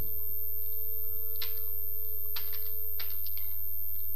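Code is typed on a computer keyboard in short bursts of close key clicks over a constant low electrical hum.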